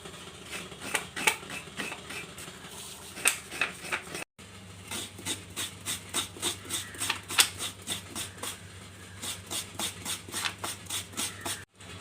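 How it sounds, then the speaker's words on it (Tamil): Half a coconut is grated by hand, a quick series of rhythmic scraping strokes, close and crisp, repeating steadily with a brief pause partway through and no talking. "அரைமுடி தேங்காய் துருவியாச்சு"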